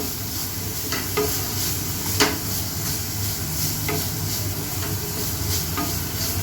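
Chaat ingredients are sautéed in a pan, producing a loud, steady sizzle with regular spoon scrapes and taps against the pan, close up and with no voices.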